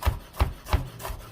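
Knife chopping minced garlic with kosher salt on a cutting board, three evenly spaced dull thuds with a short rubbing scrape after each, close and fairly quiet with no talk.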